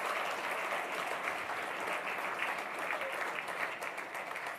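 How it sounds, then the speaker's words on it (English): Sustained, dense applause from an audience at the Athens Democracy Forum, honoring two cofounders; steady, loud clapping that fills the whole stretch without pause. "Give them a round of applause."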